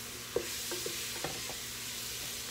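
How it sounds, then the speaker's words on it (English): A flour roux for jambalaya cooks and gets stirred in a pan, giving a steady low sizzle broken by a few soft spoon scrapes, with no talking. "What we're doing right now is we're making a roux."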